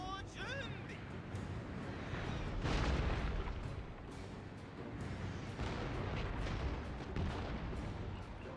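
Armstrong gun artillery in the Total War Warhammer 2 strategy game, repeated booming cannon shots at varying distance over battle noise, with a voice speaking throughout.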